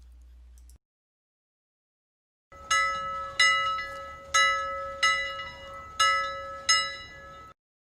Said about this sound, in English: Like a clock on a wall said ding ding dong, it's time to check the monkey clock